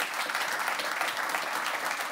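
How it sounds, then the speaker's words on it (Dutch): An audience gives steady applause, dense and even, lasting about two seconds with no pause. "Grote applaus graag."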